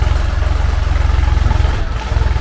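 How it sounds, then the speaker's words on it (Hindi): A tractor idles nearby at a house construction site where it has come to level soil, its loud low engine chugging in a steady rapid pulse with a slight dip near the end. "ये हमारी मिट्टी बराबर करने के लिए ट्रैक्टर हमने बुलवा लिया है"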